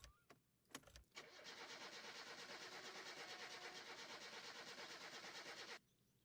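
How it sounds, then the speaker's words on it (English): A car's starter motor cranks the engine in a long, rapid, rhythmic whirring burst of about four and a half seconds after a few clicks and knocks, then cuts off abruptly without the engine catching. "the sound of the starter engine trying to do its thing"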